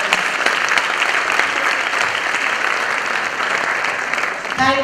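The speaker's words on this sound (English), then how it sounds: "Louder round of applause, please." An audience at a school annual function in Dadar West applauds, a steady dense clatter of many hands clapping that holds evenly for several seconds, then fades as a voice begins speaking at the end.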